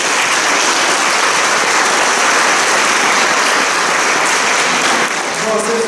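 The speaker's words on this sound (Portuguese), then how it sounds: "Uma salva de palmas para vocês e professores." Sustained, dense applause from an audience honoring retired teachers, a steady loud wash of many hands clapping throughout with no pauses.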